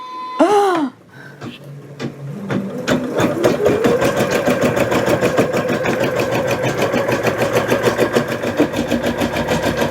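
A Janome MC100E embroidery machine starts up after a couple of short beeps and then stitches steadily, a fast mechanical whirring with a rapid regular needle rhythm, close and loud.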